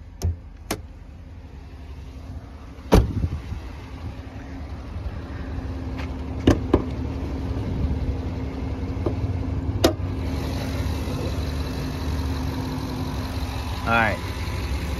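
A Jeep Grand Wagoneer Series III 4x4 with a 6.4-liter engine idles steadily under the open hood, a low continuous hum broken by a few sharp clicks and knocks, with someone talking over it.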